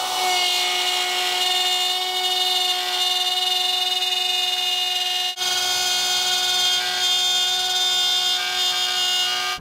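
Router cutting a groove in walnut for a curved-front buffet: a loud, steady high-pitched motor whine with a continuous cutting roar that runs throughout, briefly dipping about halfway before resuming.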